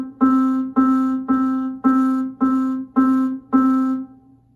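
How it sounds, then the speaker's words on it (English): Piano notes struck evenly, seven repeated strikes at a steady moderate pace, each ringing briefly before the next, clear and close. "Now, on a piano, it would sound like this."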